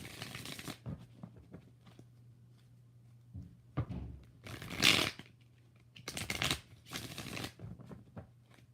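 Tarot cards being shuffled in several separate bursts of close riffling and flicking, with quiet gaps and a faint steady hum in between.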